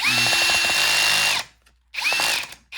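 Power drill driving a screw into a Bissell CleanView vacuum, two close high-pitched whirring bursts with a brief pause between them.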